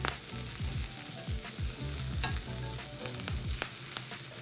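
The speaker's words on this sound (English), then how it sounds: "Now we want a nice char on these broccolinis." Broccolini sizzles and chars in a hot pan, a steady loud frying hiss broken by repeated scraping stirs and sharp spattering pops throughout, with no voices.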